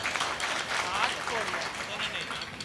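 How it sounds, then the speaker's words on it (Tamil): Audience applause at a Tamil stage debate, a broad, steady rattle of many hands clapping at moderate loudness, with voices mixed into the crowd noise. "நல்ல ஒரு கைத்தட்டல் கொடுங்க பார்ப்போம்"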